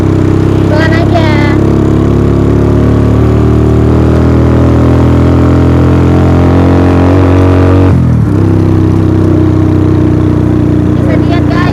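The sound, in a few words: motorcycle engine straining on steep uphill climb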